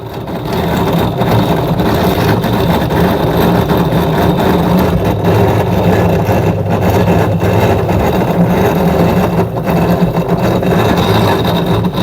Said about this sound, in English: Now I am catching with the hand, drum rotating.